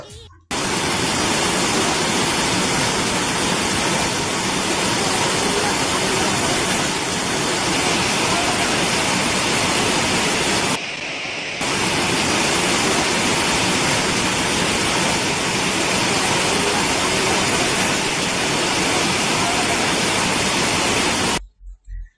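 Powerful roar of Baikuntha waterfall in Nepal, constant and near, a dense hiss of falling water that briefly dips midway before resuming.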